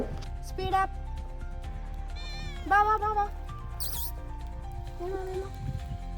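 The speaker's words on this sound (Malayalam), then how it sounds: "ആ പൂച്ച ഞങ്ങളുടെ പുറകെ തന്നെ ഉണ്ടായിരുന്നു കേട്ടോ." A local cat in Mahabaleshwar meows several times, a couple of rising and falling calls close by, mixed with people talking and background noise.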